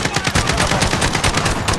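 Rapid gunfire in a shooter video game, a dense run of sharp shots in quick succession, loud and close, with no pauses over the short stretch.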